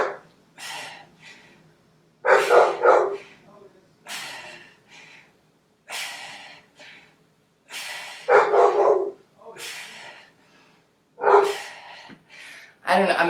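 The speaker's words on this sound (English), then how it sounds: "I'm assuming you guys can hear my dog barking." A pet dog barks repeatedly indoors during a home boot camp workout, with loud, close bursts separated by short quiet gaps.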